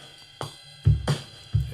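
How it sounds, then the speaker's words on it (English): A 1960s-style shuffle drum-set loop slowed to 90 BPM plays a few punchy kick and snare hits over a short, sparse stretch, loud and close with no voices. "So I found a beat."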